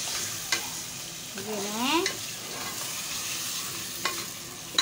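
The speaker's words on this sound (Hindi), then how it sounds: "इसको थोड़ा तेज़ आंच पे भूनूंगी, बहुत हल्की आंच पे नहीं भूनूंगी।" Spice masala for chicken karahi sizzles and fries over high heat in a pan while being stirred, a steady close crackle with a few louder scraping stirs; someone briefly speaks over it.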